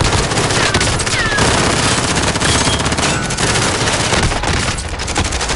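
Dense, continuous gunfire in Call of Duty Warzone. Rapid automatic shots blend into a steady, loud rattle with no clear breaks.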